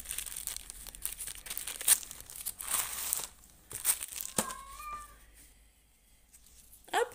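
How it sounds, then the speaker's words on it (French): A plastic-wrapped packet being opened, with intermittent crinkling and tearing bursts and a short, high squeaky sound partway through, in an otherwise quiet room. "Je vais en ouvrir un pour regarder avec vous comment ça se présente."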